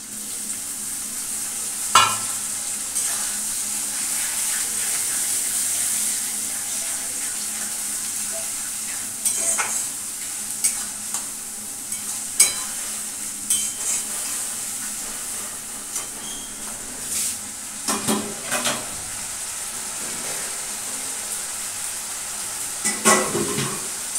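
Onion, ginger and garlic paste fries in a pan with a constant close sizzle, while a utensil stirs and scrapes against the pan in intermittent clinks.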